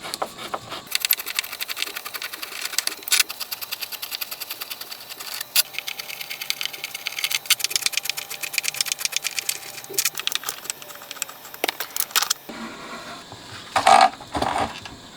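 A 1957 Telefunken Opus 7 radio chassis has its screws undone with a hand tool. Close, dense scraping and ratcheting runs almost continuously for about twelve seconds, then a few faint clicks follow.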